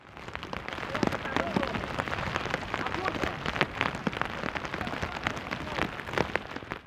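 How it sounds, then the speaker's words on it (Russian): Steady rain pattering on a hard surface at a sailing regatta finish in St. Petersburg, dense and continuous with scattered sharper drops, fairly close and unbroken throughout. "Притихший до основной гонки дождь в полной мере показал себя на финише."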